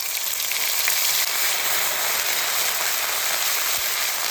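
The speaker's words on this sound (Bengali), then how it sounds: "ফোড়নটা একটু ভেজে নিয়েছি এবার মশলাগুলো কষিয়ে নেবো" Ginger-garlic paste and spices sizzling in hot oil after bay leaf tempering, a steady, loud, continuous frying hiss without pauses.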